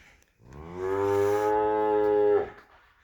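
A single cow from a large farm gives one long, loud, close moo lasting about two seconds, rising in and cutting off cleanly, with no talk over it.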